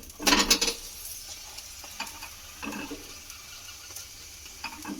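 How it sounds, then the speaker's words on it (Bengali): Cauliflower paratha frying in oil in a pan, giving a soft sizzle with a few louder bursts of pan scraping and turning, mostly faint and close. "এইভাবে লাল লাল করে সুন্দর করে ফুলকপির পরোটাগুলোকে ভেজে নিতে হবে"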